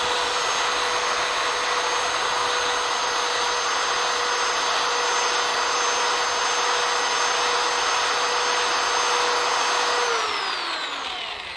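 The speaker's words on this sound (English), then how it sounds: "We're going to grab our power sander and we're just going to touch it just a little bit." A power sander whines steadily against a wooden tailstock handle for a small lathe, a loud even hum with a bright tonal edge that holds for about ten seconds before spinning down.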